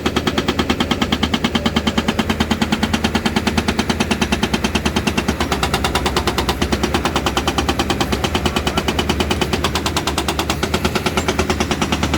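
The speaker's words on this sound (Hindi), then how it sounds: "देखें गन काट रही है पत्थरों को।" Rapid, steady hammering pounds continuously, a loud mechanical rattle of a hydraulic breaker cutting rock during drainage line work in New Karachi, Karachi, with no pauses.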